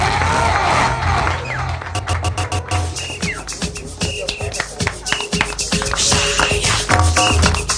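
An audience at an award presentation broadcast live on Meru TV breaks into a burst of rapid clapping mixed with crowd noise and a few cheers, loud and sustained.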